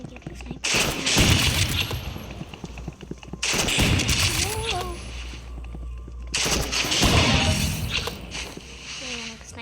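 Sniper rifle shots in a video game, loud sharp cracks in three separate bursts with echoing tails, and a voice talking between them.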